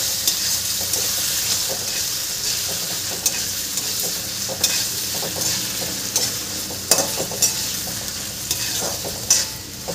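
Sabudana khichdi with potatoes is stirred in a frying pan, a steady oily sizzle under repeated scraping and clinking of the spoon against the pan, close up, with no voices.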